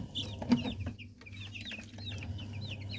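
Young chicks in a brooding batch raised for Eid al-Adha, with several short high-pitched peeps scattered over a few seconds, a low clucking sound early on, and a steady low hum of housing equipment underneath.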